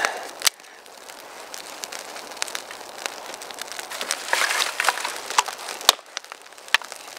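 A small outdoor wood bonfire, freshly lit with larger wood built on top, crackles and pops steadily, with sharp snaps scattered over a continuous brittle hiss, close and moderately loud, no talking.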